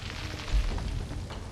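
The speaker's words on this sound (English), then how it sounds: "That was him doing a stomp attack is what that noise was." A heavy boom from a creature's stomp attack in the survival game Conan Exiles, a single dull low thud swelling briefly out of a steady rumbling game ambience.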